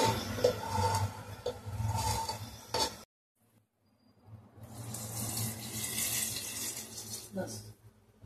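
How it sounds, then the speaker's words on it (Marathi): Water runs from a tap in a kitchen while pav bhaji is prepared in a pressure cooker, a steady splashing stream that cuts off for about a second and a half, then resumes, fairly close. "याच्यामध्ये आता मी 1 वाटी एवढं पाणी घालणार आहे"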